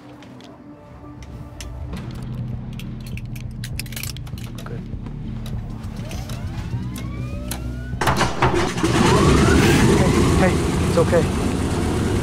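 An airplane engine drones and hums in flight, steady at first and then swelling louder and rougher near the end, with brief dialogue spoken over it.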